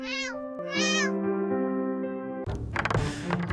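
A cat meows twice in quick succession, close and loud, each cry followed by a long sustained tonal drone, before a burst of scraping, clattering household noise takes over.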